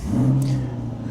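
A C8 Corvette's engine pulls under throttle while driving, a low steady drone with a brief rising note heard from inside the cabin.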